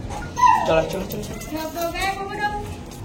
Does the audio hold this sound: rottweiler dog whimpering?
yes